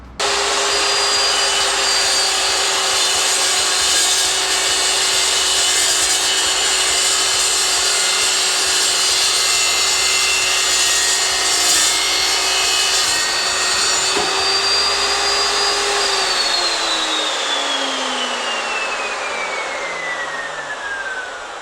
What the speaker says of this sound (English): That's going to help me cut this quite serious box section to make the stand for this lathe.